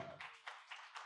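Audience applause from a seated crowd at a talk, heard as a few faint, spaced bursts of clapping that fade quickly after a brief low murmur at the start.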